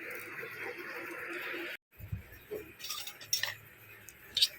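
A spoon clinking against a bowl of mixed yogurt and buttermilk at home, a few light, separate metallic taps close by after a short gap, with faint background noise and no talk.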